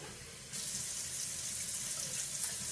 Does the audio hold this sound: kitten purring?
no